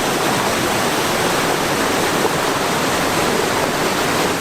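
Rushing water of the Chinook Cascades waterfall, beneath a trail bridge that crosses over its top, roars as a loud, steady broadband wash with no pauses and no voices.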